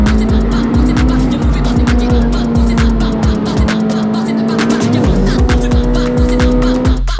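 Honda Civic Type R track car lapping the Bilster Berg circuit, its engine droning loud and close with steady pitch, a brief lift around the midpoint, and tire squeal and skidding sounds layered over the run.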